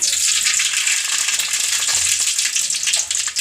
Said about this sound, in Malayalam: നമുക്കൊന്ന് കടുക് താളിക്കാൻ വേണ്ടി അപ്പം നമ്മൾ കടുക് ഇട്ട് കൊടുക്കുവാണ്